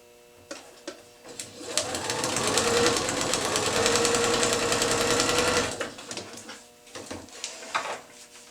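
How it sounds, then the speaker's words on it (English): Sewing machine stitching pieced quilt triangles: a few short single stitch taps, then a loud continuous run of rapid stitching for several seconds, followed by scattered taps and handling sounds. "Flip it over, and we're going to sew along this line."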